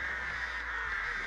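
Crows caw in the Dead by Daylight video game, a steady, harsh cawing chorus that fills the whole moment at an even, moderate level with no talk over it.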